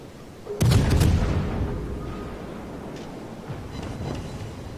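A naval artillery salvo from a French warship in World of Warships: one sudden heavy boom bursts out, then rolls into a long, fading rumble over steady wind and water ambience.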